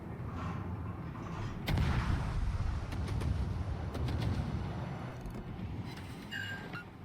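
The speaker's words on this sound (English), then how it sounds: "It lets me open up with my guns." Warship main guns firing in the naval combat game World of Warships, deep booming salvos layered over a constant low rumble, with sharp reports standing out mid-clip.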